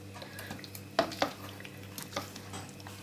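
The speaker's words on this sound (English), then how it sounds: "in goes my paneer, and just mix it gently" Paneer being gently folded into palak spinach curry in a pan, with soft stirring, a couple of distinct spoon clinks against the metal, and faint sizzling underneath.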